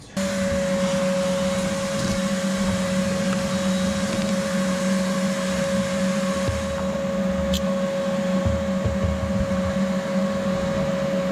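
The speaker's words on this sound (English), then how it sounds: "I gotta stick the vacuum in here before I do too much more" A vacuum cleaner runs inside an old Takeuchi TL26 tracked skid steer being cleaned out, giving a steady close whining drone with a constant hum for the whole stretch. A brief faint clatter sounds partway through, and no one speaks.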